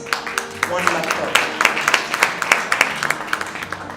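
Audience members clap at a charity fundraising celebration for blind women, a thin scattered applause of separate sharp claps close to the recorder that builds slightly, heard over background murmur and talk.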